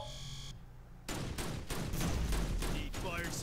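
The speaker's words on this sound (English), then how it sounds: "Our turrets are under attack." Gunfire in the Starship Troopers: Terran Command game as turrets come under attack, a dense barrage of overlapping shots and bursts after a quieter opening second, with a faint voice at times.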